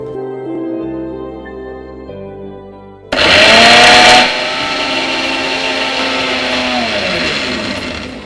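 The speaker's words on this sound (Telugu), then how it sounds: "ఇప్పుడు దీన్ని మిక్సీ పట్టేసుకుందాం." A kitchen mixer grinder blends mint, coriander and peas with a little water for green soup, starting abruptly after a quiet stretch with a loud whirring roar that settles into a steady high-pitched motor drone.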